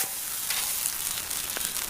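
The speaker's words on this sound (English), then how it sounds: "put the steak on" Steak frying on a grill at a camp, a steady broadband sizzle that holds level and close throughout with a few brief crackles and no talking.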